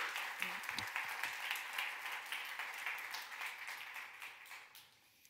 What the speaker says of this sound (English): Let's give them another round of applause, and also to yourself for some good questions.